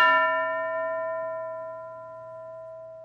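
A single school bell strikes once in a children's English lesson, a clear metallic ding whose ringing overtones fade slowly over three seconds, heard alone and fairly soft.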